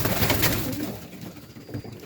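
Serbian highflyer pigeons in Melbourne, Australia, coo softly in a couple of low, rolling calls, close by, with faint outdoor background and no talking.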